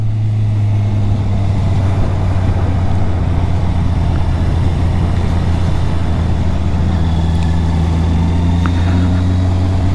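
A Honda CB650R 2022 four-cylinder motorcycle engine runs with a steady, close, low droning hum at a constant speed, with no voices over it.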